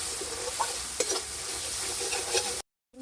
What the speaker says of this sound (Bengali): মশলাটাকে খুব সুন্দর করে কষিয়ে নিতে হবে।